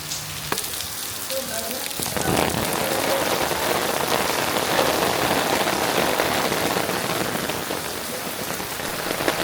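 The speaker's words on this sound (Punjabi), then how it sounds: "ਅੱਜ ਮੀਂਹ ਕਾਫੀ ਤੇਜ਼ ਪੈ ਰਿਹਾ" Heavy monsoon rain pours steadily onto surfaces in a Punjab village, a loud, dense hiss that builds within the first two seconds and then holds constant.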